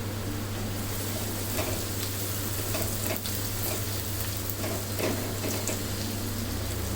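Onions with salt stirred and frying in a pan, a steady close sizzle with a low hum beneath, no voices.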